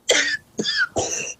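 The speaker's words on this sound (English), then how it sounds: "Then I'm going to start coughing." Three short, harsh coughs in quick succession, close and loud, with brief pauses between them.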